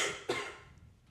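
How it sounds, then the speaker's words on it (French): A single short cough, quiet and close, with a faint trailing breath afterward in an otherwise still room. "Mais Je choisis les moments où je tousse."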